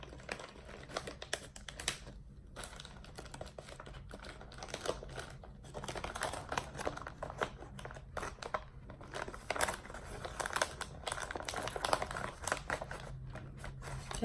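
A paper chip bag is folded over onto glue during a craft build, giving faint, close crinkling and rustling in short irregular bursts, with no talk.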